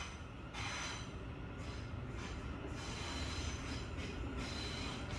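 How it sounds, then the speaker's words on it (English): A train rolls past at moderate distance with continuous rumbling wheels and faint squealing, a steady drone held throughout under quiet ambience. "The train's coming past."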